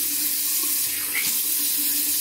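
Steady stream of tap water running into a sink while shaving soap is rinsed off, a continuous even hiss with no talking.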